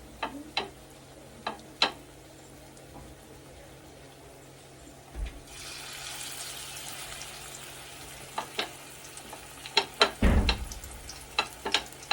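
Curry leaf pakoras frying in hot oil on a rainy day, a soft steady sizzle with scattered sharp ticks and pops from the pan and a clattery burst near the end.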